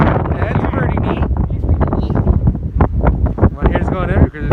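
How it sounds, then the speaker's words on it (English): Strong wind buffets the microphone on a hiking trail near waterfalls, a loud, continuous roar with gusty surges throughout. "My hair's going everywhere because it's windy as crap."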